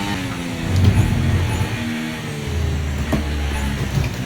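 A Formula 1 car in the F1 24 racing game roars past with a steady engine drone and broad rushing noise, loud and close, shifting tone midway.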